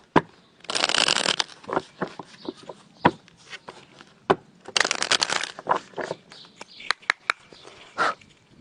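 Tarot cards shuffled by hand in bursts of papery riffling and flicking, close and fairly loud, separated by soft taps and handling noises.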